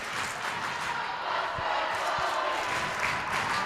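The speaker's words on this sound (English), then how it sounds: "Even the other team that's here waiting for their next game, cheering for Tully." A crowd cheers steadily in a gym during a winter volleyball championship, a loud, continuous roar of voices filling the room with a couple of faint thumps underneath.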